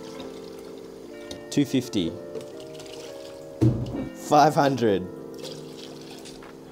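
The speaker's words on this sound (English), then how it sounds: "Place 600 to 700 milliliters of water into a clean glass or plastic pitcher." Water pours into a plastic pitcher in two short bursts of splashing and trickling while a person counts measurements aloud over it.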